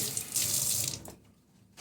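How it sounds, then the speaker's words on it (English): Water pours steadily from a tap onto a sculpture being stained, a close hissing splash that cuts off abruptly partway through, then briefly resumes at the end. "Now I'm just going to put a little more water on here."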